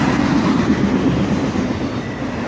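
Freight train of mostly empty autoracks passing at top speed, a loud, close rumbling roar with rapid wheel clatter, sustained without a break.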